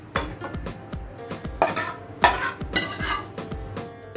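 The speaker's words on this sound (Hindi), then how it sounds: "अब हम अपना मसाला रेडी किया हुआ तड़का सांभर में ऐड करेंगे।" Metal utensils clink and scrape against a pot of sambar in a steady rhythm, with a brief sizzle as spiced tempering is added and stirred, close and fairly loud.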